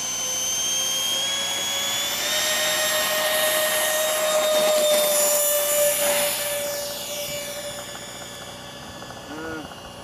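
An RC T-45 Goshawk model jet with stock electric ducted fan and motor flying past, a steady whining fan tone that swells and then fades as it moves away, heard outdoors.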